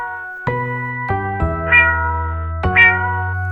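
A cat meows several times in a row, with close, clear, tonal calls and short gaps between them. Musical notes ring underneath in a children's alphabet song.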